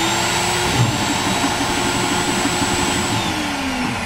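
An Ecoshredz shredder's blower and agitator run together, producing a loud, steady whirring roar with a constant high whine on top and a faint rhythmic churning underneath.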